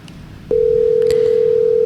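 An outgoing telephone call: after a brief quiet moment, a single steady electronic tone starts abruptly and holds unbroken and fairly loud to the end, with no voices.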